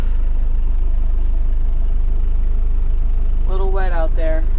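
A small tractor's engine idles steadily after starting in wet weather outdoors, a loud, even low rumble throughout, with a person's voice speaking briefly over it near the end.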